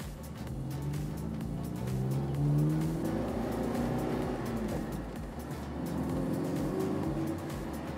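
1967 Alfa Romeo Giulia GTV sports car engine revving, a throaty rising and falling engine note held at a steady moderate level from inside or near the car.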